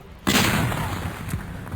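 A gunshot sound effect plays during a tabletop game session, one sudden loud blast that cuts in sharply and rolls off into a long booming, noisy tail, with no talk over it.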